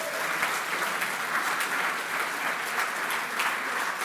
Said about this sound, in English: A big round of applause for all the sponsors.